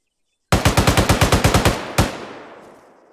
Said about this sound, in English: If Reyes does a 2-second burst right now,